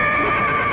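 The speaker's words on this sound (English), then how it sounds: "I thought I heard a horse." A single horse whinnies in one short, loud, close burst that fills the moment on its own, with no other sounds around it.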